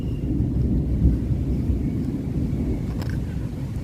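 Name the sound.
thunder from lightning storm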